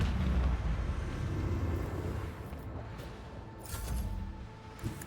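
Heavy macro cannon fire from a starship in the Warhammer 40k Rogue Trader video game, a loud, sustained low rumbling boom that swells at the start and again near the end, with no talk.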